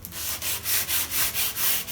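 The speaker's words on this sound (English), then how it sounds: "So I think I'm gonna have to get some grittier sandpaper." Hand sanding a painted wooden TV stand with 120-grit sandpaper, a close, loud rasping rub in a steady back-and-forth rhythm of about seven quick strokes.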